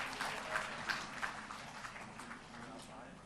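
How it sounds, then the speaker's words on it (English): Modest audience applause in a hall during an international health conference, honoring an invited professor, with a few distinct claps standing out over a soft, diffuse patter and some background voices. "Please give a huge round of applause to R.C."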